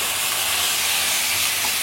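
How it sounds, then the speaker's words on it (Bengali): Beef steak frying in a small amount of oil in a pan, an even, loud, continuous sizzle close up with no voices. "আমরা অল্প একটু তেল নিয়ে নিচ্ছি স্টেকটাকে কুক করার জন্য, অল্প একটু, বেশি না। স্টেকটাকে ভাজবো বন্ধুরা।"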